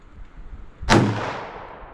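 A single loud .357 Magnum shot from a Fiocchi defense round fired at a target 15 yards away on a range, one sharp crack with a trailing echo.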